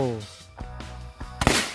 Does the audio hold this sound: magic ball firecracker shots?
yes